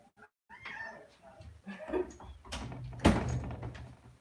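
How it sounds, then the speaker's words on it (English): A house door is pushed shut with a single loud thud near the end, preceded by rustling, movement and some faint voice sounds in a quiet indoor room. "I'm going to shut the door."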